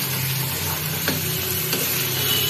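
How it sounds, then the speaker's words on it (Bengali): Cauliflower rice sautéing in a pan, an even close sizzle with a couple of soft spatula strokes, no talking. "এটা এবার ভালো করে কষাতে হবে, কষিয়ে নিই ভালো করে। দেখো সুন্দর করে কষিয়ে নিচ্ছি।"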